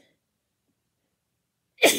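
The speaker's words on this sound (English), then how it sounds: "Excuse me. I got a sneeze." A single sharp human sneeze bursts out at the very end, loud and close, after a near-silent pause.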